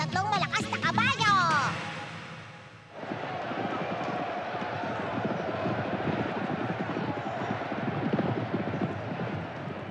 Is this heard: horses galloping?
yes